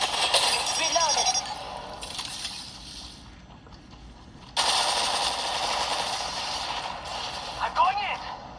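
Weapon reloading in Apex Legends Mobile, with quick mechanical clicks and clinks of a magazine swap mixed with bursts of gunfire and game effects; a voice talks intermittently throughout.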